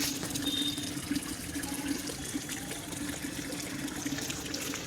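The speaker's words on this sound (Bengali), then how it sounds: "এদিকে গামলাটা ভরুক" Water running steadily into a tub outdoors by a garden, a continuous close gushing splash with a low hum beneath, unbroken and even for the whole stretch, no talking.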